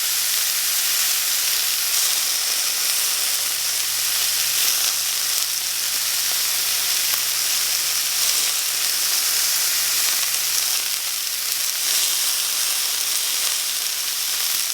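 Butter melting in a hot pan gives a loud, dense, unbroken sizzle and hiss that holds steady throughout, with no voices.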